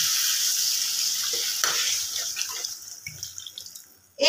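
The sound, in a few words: water poured into egg curry frying in a pan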